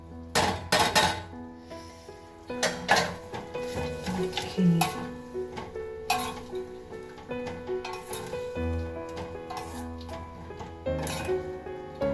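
A utensil mixes ingredients in a metal pan for a Kerala sadhya dish, giving loud, irregular clanks and scrapes up close over a faint tonal background, with no talking.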